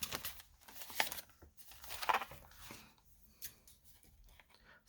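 Paper trimmed for a window envelope pocket, a few quiet crisp snips and rustles around the start and middle, faint and close with pauses between.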